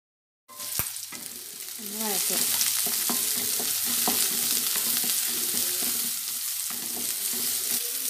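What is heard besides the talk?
chopped shallots frying in hot coconut oil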